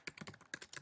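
Typing on a computer keyboard while writing a regular paragraph in Microsoft Word: a quick run of separate key clicks at an uneven rhythm, close and fairly quiet, with no voice.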